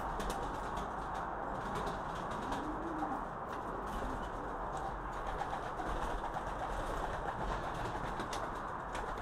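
Homing pigeons a day after a 60 km training flight, giving soft low cooing calls now and then against a steady, fairly quiet outdoor background, with faint wing flutters and no talking.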